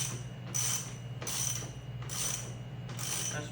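A wrench ratchets as a bolt is tightened on a Freak Athlete ABX bench during assembly: four quiet, evenly spaced clicking strokes, close by, with no talking.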